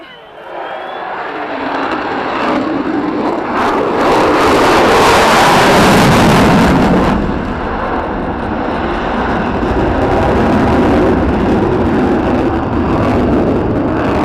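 An F-35 fighter jet roars past during a display at the 2017 Avalon airshow, a loud, sustained rush that swells to a peak and then holds as a broad, heavy drone, with a crowd faintly audible beneath it.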